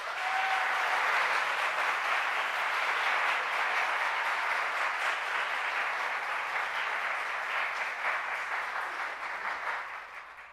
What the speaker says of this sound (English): so you also should get a round of applause.